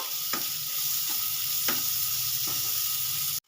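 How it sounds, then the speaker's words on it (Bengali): Thinly sliced onions fry in hot oil on the way to browning, a steady close sizzling hiss broken by a few soft stirring knocks at regular intervals, with no voices. "পেঁয়াজটা একটু ব্রাউন কালার করে ভেজে নেব"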